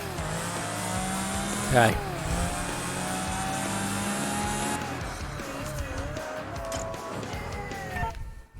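Engine of an orange McLaren in Project Gotham Racing 3, droning steadily with a brief rev and tire squeal, as someone speaks briefly over it.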